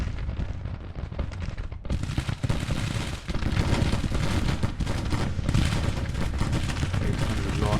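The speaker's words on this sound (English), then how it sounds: "There's more cannons coming over." Cannon and musket fire rage in a large Civil War battle in Grand Tactician: The Civil War, a loud continuous stream of overlapping bangs and booms after a brief dip near the start, with no one talking.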